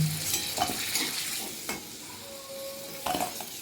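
Katla fish pieces, rubbed with salt and turmeric, fry in a kadai: a quiet, steady sizzle with several close metal clinks and scrapes from stirring and turning.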